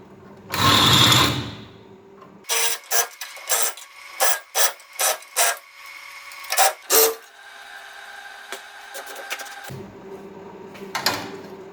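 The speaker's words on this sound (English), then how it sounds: "clean these edges up a little bit here, just to give you, so you've got no burrs on the back side" A hand file scrapes burrs off the edges of a sheet metal turret top repair panel for a Nissan S13 180SX or 240SX, about ten sharp, evenly spaced rasping strokes, close and distinct.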